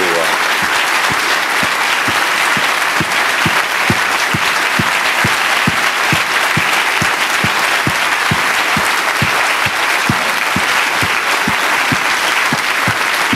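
Sustained applause from a standing audience in New York, a dense, even wash of many hands clapping continuously and loudly, with no pauses.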